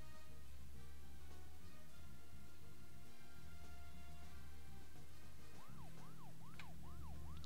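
A police siren on a car in the video game Deadly Premonition starts wailing in rising and falling sweeps over the steady hum of the car engine, loud and continuous toward the end.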